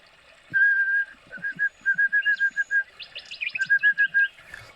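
Bird chirps and whistled song notes repeat in quick rhythmic runs, with a separate burst of higher rapid trills near the end; clear and fairly close, with no talking.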